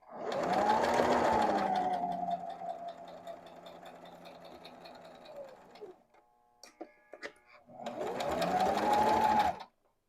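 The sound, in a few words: Brother XL-2600 sewing machine stitching and backstitching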